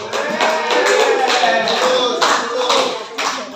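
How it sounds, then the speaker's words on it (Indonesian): A group of people claps together in a room in a quick, rhythmic burst of applause, loud and near, with voices mixed in. "Tepuk tangan"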